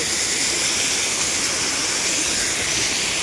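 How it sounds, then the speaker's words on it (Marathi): Waterfall on the Shiv river near Chiplun, a loud, steady rushing roar of falling water filling the whole scene with no voices. "काय पण बोला झरणा मस्त आहे."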